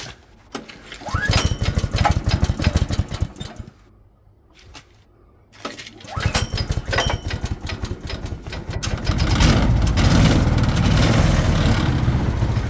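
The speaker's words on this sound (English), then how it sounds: "It just hasn't run for a while, so sounds alright. Slight rattle from the centrifugal clutch, but that's pretty normal." A long-idle offroad buggy engine from a barn find runs steadily with a slight rattle from its centrifugal clutch, a close, loud buzzing drone that drops briefly before revving back up and holding.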